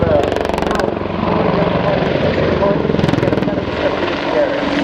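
An aircraft at the RIAT 2014 airshow gives a loud, steady, pulsing rotor-like drone that fills the whole clip, with a brief crowd or announcer-like voice layered under it.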